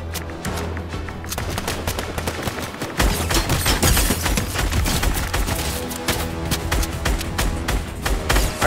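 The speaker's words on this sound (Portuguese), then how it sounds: "os bots estão atirando neles" Bots firing guns in a shooter video game, dense rapid bursts of automatic gunfire crackling nonstop, growing louder partway through and staying busy to the end.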